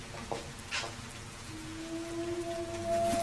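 Steady rain falls in a quiet outdoor setting, a soft continuous patter with a faint tonal hum running underneath and no talking.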